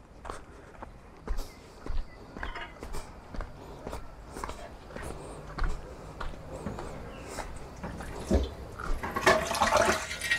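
Water runs as vegetables are washed at a mountain campsite on Mt. Acato in Tublay, Benguet, with scattered clunks and footsteps and a louder splashing stream toward the end.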